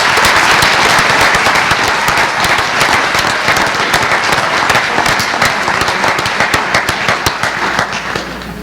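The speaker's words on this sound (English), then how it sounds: "Nice round of applause for our National Board Certified Teachers" A loud, dense burst of applause from a large crowd at a board of education meeting, steady rapid clapping that fills the whole stretch and tapers slightly at the end.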